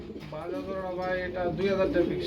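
Pigeons coo in a loft, soft repeated rolling calls close by, with people talking over them.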